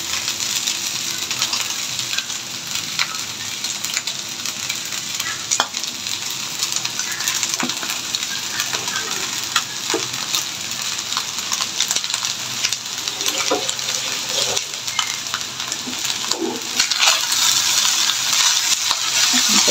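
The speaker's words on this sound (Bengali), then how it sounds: "আমি যে এই দলা দলাগুলো একটু ভেঙে দিচ্ছি।" Leftover rice frying in a small frying pan while a spoon stirs and breaks up clumps, giving steady close sizzling with scattered scraping and clicking taps throughout.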